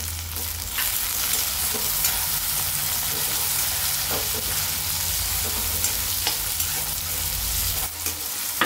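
Onion and finely chopped tomato sautéed in a pan for a spicy ridge gourd chutney, a loud continuous sizzle with repeated stirring scrapes and a few spatula taps, no speech.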